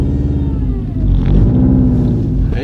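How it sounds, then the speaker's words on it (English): A built Subaru WRX boxer engine with a stage 3 clutch revs loud and close, its rumbling burble climbing in pitch before easing off, with no talking. "just that boxer engine."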